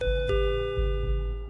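A ceiling door chime rings as someone enters a store, one bright struck tone that sustains and slowly decays over a low, steady background rumble.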